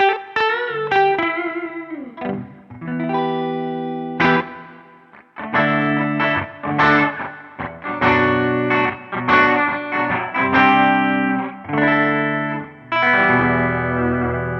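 Distorted electric guitar through a POD Go with ADT effect plays chords and short phrases with a doubled slapback echo that adds a spacious, separated feel.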